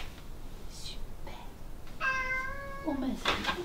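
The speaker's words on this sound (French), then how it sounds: "Oh ben c'est le chat." A domestic cat meows a few times, close and clear, its cries set against quiet room sounds.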